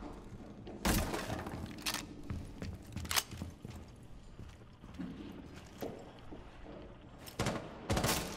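In the Rainbow Six video game, gunfire shoots through a wall as bursts of sharp, loud shots crack out at irregular intervals over a busy background of game noise.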